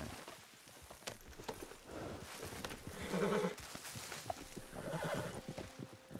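Horses neigh and whinny during a ride in the western video game Red Dead Redemption 2, with clip-clopping hooves over a busy outdoor game soundscape, moderately loud.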